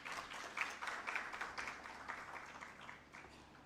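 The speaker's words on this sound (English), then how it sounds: "A round of applause, please." Guests at a university gala dinner give a round of applause: steady, fairly soft clapping from a crowd, heard at a distance and continuing evenly for a few seconds.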